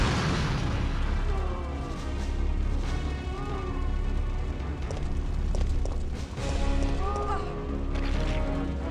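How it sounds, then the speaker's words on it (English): Explosions in the video game Resident Evil 3, heard as dense, sustained booming rumble with crashing bursts, loud and continuous with game music tones layered over it. "Explosions."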